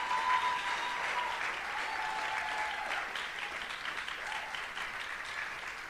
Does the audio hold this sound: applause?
yes